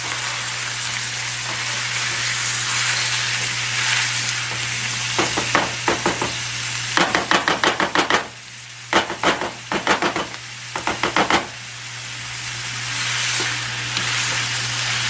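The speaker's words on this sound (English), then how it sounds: "So once my meat starts sizzling like this" Steady, loud sizzling of ground meat frying in a pan for alcapurrias, with bursts of sharp scraping and clacking from about seven to eleven seconds as it's stirred and broken up.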